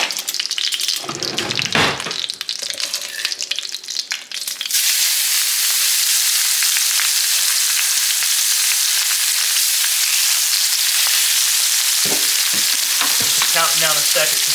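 Steak for fajitas sears in a hot pan: a few seconds of clatter and handling give way to a loud, steady close-up sizzle that hisses on unbroken, with light clicks near the end.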